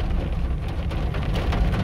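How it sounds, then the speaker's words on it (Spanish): Steady rain falling over the city of Jalapa, a continuous close hiss of drops on surfaces with a low rumble beneath, constant and without talk. "Con lluvia."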